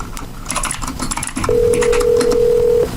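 A phone call being dialed: a few quick key taps and short tones, then a long steady ringback or dial tone sounding alone over faint room noise.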